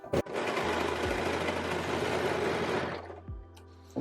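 A sewing machine runs a dress seam in one steady burst of rapid stitching lasting a few seconds, close by, then stops with a few faint clicks and bumps.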